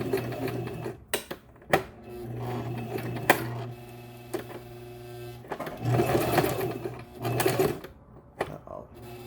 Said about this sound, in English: Once you go sewing machine, you do not go back.